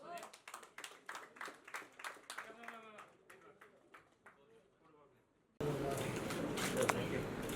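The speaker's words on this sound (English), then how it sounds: "if you can just have an applause for them" A crowd at a book launch for Amish's Suheldev bursts into loud, dense applause that lasts about two seconds, after a stretch of quieter, sparse sounds.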